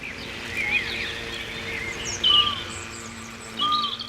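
Many birds calling and chirping in a large aviary housing species from all over the region, with scattered bright tweets and short whistled calls over a steady background of chatter.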